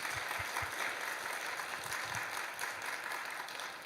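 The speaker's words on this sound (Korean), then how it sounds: "우리 연합여전도 앞에 감사 박수 한번 하십시다." A church congregation at a Sunday morning service gives a round of applause, a steady wash of many hands clapping. It is faint and distant and runs the whole time without any voices.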